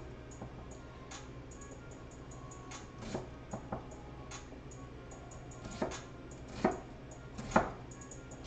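A few sparse knife chops through onion on a small chopping board, quiet scattered taps against a low background hum, with gaps between strokes.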